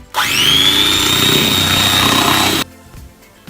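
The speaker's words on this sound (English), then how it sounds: "we're just going to whisk this now" An electric mixer whisks a room-temperature spinach dip mixture, spinning up quickly into a loud, steady high-pitched whir for about two and a half seconds before switching off abruptly, with no talking.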